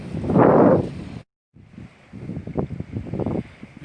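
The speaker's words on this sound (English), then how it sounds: "Wind's just calmed down." Outdoor wind during shore fishing at Macquarie Heads near Strahan, Tasmania: a loud gust buffets the microphone, drops out briefly, then a steadier, softer windy rustle with scattered crackles continues.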